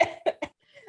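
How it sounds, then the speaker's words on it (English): A person coughs several times in short bursts, loud and close, with a brief silence after and faint breathy sound at the end. "I've got a cough."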